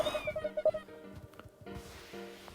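Cats meow in the video game Cat Law, with several short tonal cries in quick succession over soft game music and sound effects, close and moderately loud, with no talk.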